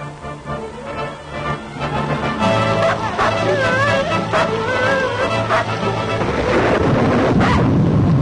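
A storm rumbles with deep thunder-like roars and rushing wind beneath a background musical score, the low rumble swelling louder toward the end, with no speech over it.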